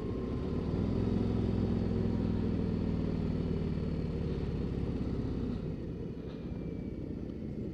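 A 2024 Harley-Davidson Road Glide being ridden on open roads near Orchard Park, New York, its engine a steady, loud low drone that eases slightly toward the end with wind noise.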